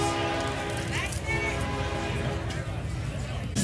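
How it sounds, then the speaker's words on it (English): A train passing near a barbecue contest in Hammond, Louisiana, its loud steady rumble and horn tones filling the air while an announcer talks over it. "while we're waiting on the train"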